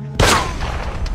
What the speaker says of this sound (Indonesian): Sebuah tembakan terjadi tapi tak mengenai siapapun